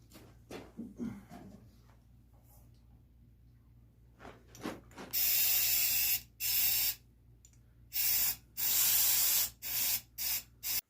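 A homemade airbrush dry flake buster sprays in several loud hissing bursts of varying length, close by, after some quiet handling noises.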